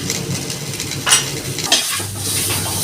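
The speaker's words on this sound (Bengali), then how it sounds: "হালকা করে ভেজে নেব আমগুলো" Raw mango pieces with salt and turmeric fry and get stirred in a pan, giving a steady close sizzle with a few sharp scrapes of a utensil against the metal.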